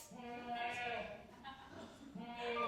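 A young goat bleats in a staged folk-tale drama, a wavering, nasal cry rising and falling over several seconds, close and clear, with a second bleat starting near the end.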